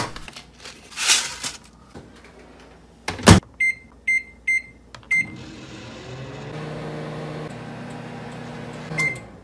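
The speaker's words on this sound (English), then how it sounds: "So it says to heat it up in the microwave for 55 seconds." Microwave oven heating dog popcorn: a few button beeps, then the door closes and the oven hums steadily for several seconds, ending with a short beep.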